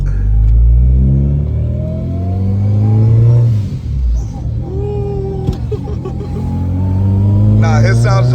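Supercharged Honda Civic Si sleeper engine revving, rising and falling in loud pulls with a whining tone, up close, while people talk over it.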